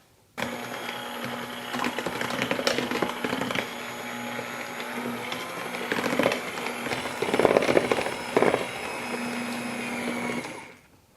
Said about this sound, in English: I'm calling on the power of the Ninja Foodi hand mixer